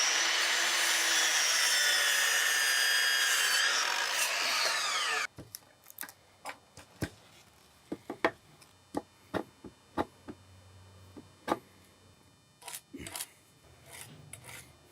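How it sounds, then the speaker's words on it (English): Hand sawing through a wooden 4x4 deck post, irregular sharp strokes and knocks after a burst of loud hissing, fairly close with no talk. "So give me a minute to get that post cut."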